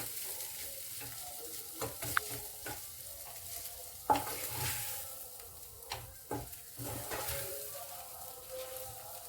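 Maggi noodles heat and get stirred in a pan: a soft sizzle under repeated scraping and clinking strokes of a spoon, close by, with no voices.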